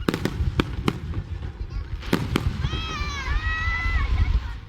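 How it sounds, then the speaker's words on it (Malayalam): Fireworks burst at an Oman National Day celebration at Qurum Beach, sharp separate bangs spaced through the clip, with a whistling tone and the murmur of a crowd underneath. "വെടിക്കെട്ട് കാണാൻ സ്വദേശികളുടെ ആവേശത്തിനൊപ്പം പ്രവാസികളും കൂട്ടമായി എത്തി"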